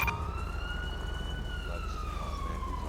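An ambulance siren from GTA V wails steadily in a slow rising and falling tone over a low engine rumble, loud and close throughout with no break.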